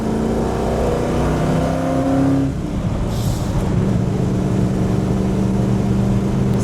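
A 1965 Ford Mustang fastback's engine drones loud and steady from inside the car while driving, a low rumbling tone that shifts pitch partway through and then settles into a continuous hum.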